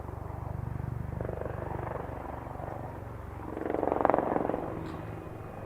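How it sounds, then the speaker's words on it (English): An Apache helicopter flying a display at an air show gives a steady, pulsing rotor thump that swells louder as it passes nearer, then fades, heard alone without talk. "There is one Apache helicopter displaying."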